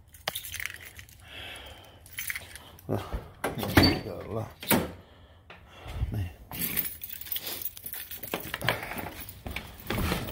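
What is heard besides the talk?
car keys jangling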